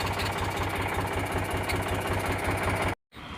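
A Mahindra 275 DI tractor, 39 HP, idles close by with a steady, even diesel knock and rumble, cut off briefly near the end.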